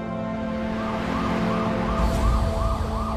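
An ambulance siren wails in a repeating rising-and-falling pattern over steady road noise, loud and close, with no voices.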